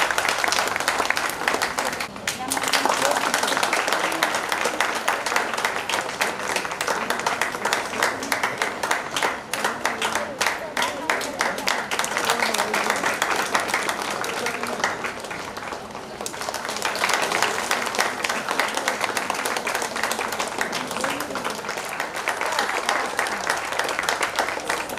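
An audience at a temple consecration festival's cultural show claps loudly and continuously, a dense roar of many hands that dips briefly and then swells again, with a voice faintly heard at times.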